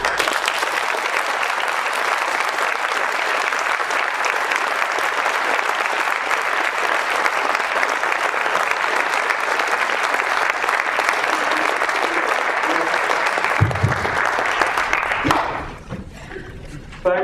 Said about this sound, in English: I hope you will all join me in a huge round of applause